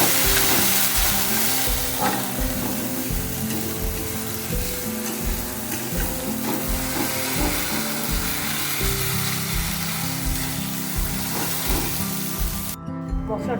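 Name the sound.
spice masala being sautéed in a pan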